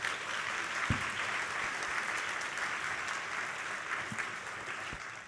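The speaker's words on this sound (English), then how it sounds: "Can we please have a round of applause for them?" Audience applause for panelists at a university fall welcome address, a steady, moderately quiet patter of many hands clapping throughout, with a few louder individual claps standing out.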